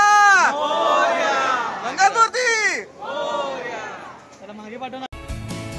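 Dense crowd of devotees in a queue at the Ganpatipule Ganpati temple in Ratnagiri, many voices overlapping into a loud, continuous babble with shouted calls rising above it, ending in a brief burst of noise.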